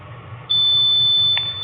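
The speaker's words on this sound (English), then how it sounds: "Hear that long beep, I'm done recording." After a moment of low background hum, a Taser Axon body camera gives a single high-pitched electronic beep as it turns off, holding steadily to the end, loud and close.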